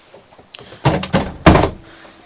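Interior cabin door aboard a Fairline Phantom 46 motor yacht being handled, a few solid wooden thunks and knocks close by in quick succession, ending in a firm closing thud.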